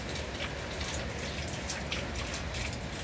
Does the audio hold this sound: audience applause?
no